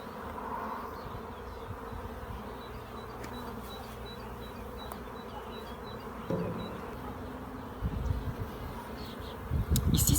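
Honeybees buzz around hive frames while an artificial swarm is made at an apiary, a steady, dense hum from many insects close by, with occasional louder handling bumps and rustles toward the end.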